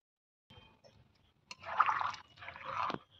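Water is poured into a cooking pot in a village kitchen, a short splashing gush that swells, pauses briefly and pours again, near and moderately loud after a few quiet clinks.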